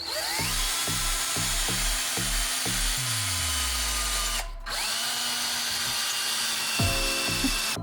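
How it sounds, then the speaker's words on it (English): A power drill whirs in repeated short bursts, briefly winding up and down, then drilling steadily with a pause and more quick pulses near the end, drilling two small pilot holes. "Now I'm just going to be drilling two small pilot holes,"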